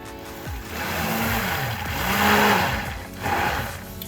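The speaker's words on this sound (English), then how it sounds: "We use our stick blender to help us." A stick blender whirs through a blood pudding mixture of blood and seasonings, a moderate motor hum that rises and falls as it works the batch, with no talking over it.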